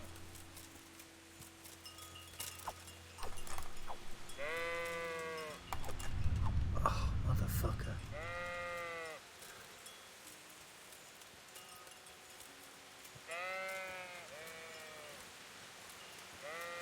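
Several sheep in the video game Kingdom Come: Deliverance bleat in short wavering calls, some close and some farther off, with rustling and a brief sworn exclamation in between.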